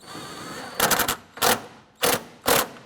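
A nut being tightened on a 1994-2004 Chevrolet S-10 battery tray, heard as four sharp bursts of rapid ratcheting clicks spaced about half a second apart, loud and close.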